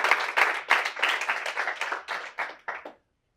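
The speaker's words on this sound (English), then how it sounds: "Give him a big round of applause for that." An audience claps in a brief burst of applause that thins out into scattered final claps before falling silent.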